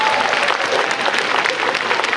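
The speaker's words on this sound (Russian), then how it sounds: "Аплодисменты." Audience applause at a cosplay show during an anime festival in Voronezh, a dense, steady wash of clapping that stays loud and even throughout without any talk.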